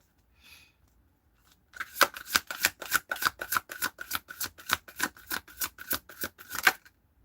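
Tarot cards are riffle-shuffled in a fast, steady run of crisp flicks and snaps after a moment of near silence. The sound is close and clear.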